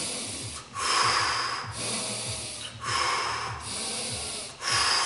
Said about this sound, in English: take huge, deep, diaphragmatic breaths while they have their Kegel turned on